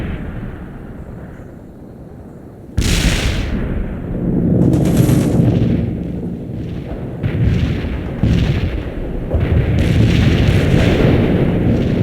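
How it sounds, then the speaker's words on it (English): A heavy artillery barrage and gunfire in a war video game: a sudden loud boom, then repeated thudding blasts and rumbling explosions, some near and sharp, others rolling, with no voices. "Deploy and lay down the heavy barrage."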